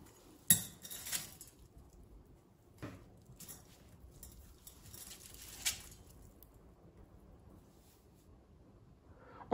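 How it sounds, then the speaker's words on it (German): Soaked sushi rice is moved from a bowl into a cooking pot, heard as faint, scattered bursts of grainy rustling and patter with light clinks of the container in a quiet kitchen. "Jetzt überführen wir den Reis in einen Kochtopf."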